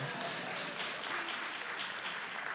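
A dense, steady patter of applause from a church congregation, continuous throughout, moderately loud.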